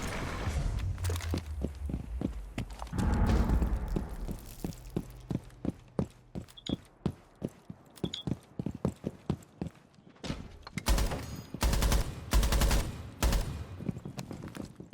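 Rainbow Six Siege gunfire rattles out in rapid sharp bursts and single shots, close and loud, over a low background with faint voices.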